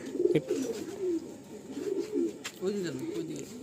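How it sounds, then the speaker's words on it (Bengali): Pigeons coo softly in a series of low, rolling calls with brief gaps between them, quiet and fairly close. "খুব কিউট মিষ্টি পায়রা আর কি প্যাটেট একসাথে দেখি আমরা একটু"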